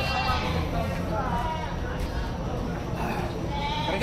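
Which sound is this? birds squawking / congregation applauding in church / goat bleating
goat bleating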